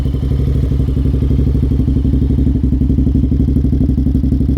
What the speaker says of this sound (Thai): มาฟังเสียงรอบเดินเบาครับผม